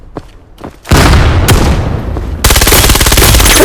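Rapid bursts of APC9 Pro submachine gunfire in the VR shooter Vail VR, a few scattered shots leading into loud sustained automatic fire with a sharp crack midway and a dense final burst.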